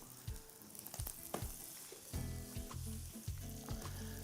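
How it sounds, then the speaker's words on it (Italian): Food sizzles and crackles as it fries in a hot pan, with scattered pops and clinks from stirring over a constant hiss. It sounds close and moderately quiet, with no talking. "Senti che sta sfrigoleggiando?"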